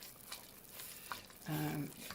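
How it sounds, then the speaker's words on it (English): Strawberry jam for freezer jam bubbles at a rolling boil in a pan while being stirred, with soft spoon scrapes and faint sputtering, quiet and close. "a true rolling boil means you stir it and it's boiling"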